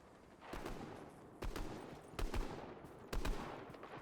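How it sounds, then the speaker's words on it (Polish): Gunfire in the video game Fortnite, four separate bursts of rapid shots at roughly one-second intervals, fairly distant and moderately loud, with quieter game ambience between. "tam są strzały"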